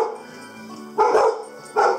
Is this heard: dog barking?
yes